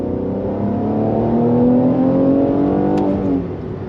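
Mercedes C43 AMG sedan with all-wheel drive accelerating hard up a parkway on-ramp, a loud, steady rising engine drone climbing through the revs for several seconds before easing off near the end, with no talk.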